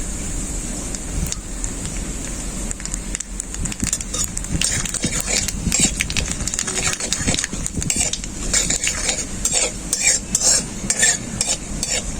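Spices including bay leaves and nigella seeds crackle and spit in hot mustard oil in a wok, a dense busy sizzle with scattered pops and scraping stirs building over several seconds.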